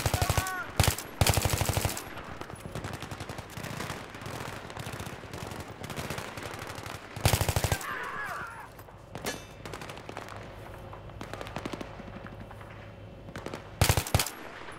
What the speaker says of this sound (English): Heard shots coming from the left.